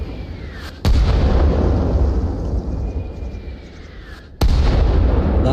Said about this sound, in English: And you got whistling explosions.